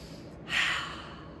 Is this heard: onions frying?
no